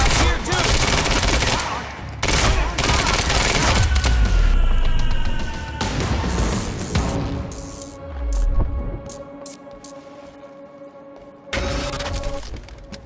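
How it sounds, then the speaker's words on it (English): Automatic gunfire from the video game Quantum Break: loud, rapid bursts of shots with booming impacts in the opening seconds, easing into quieter sustained tones and scattered clanks. "You heard the gunfire."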